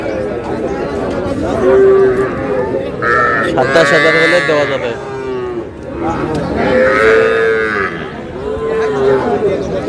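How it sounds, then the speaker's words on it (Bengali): Young bull calves moo repeatedly at a busy rural cattle market, several loud close calls spread across the stretch, with people talking and bargaining over prices underneath. "ষাঁড় বাচ্চা"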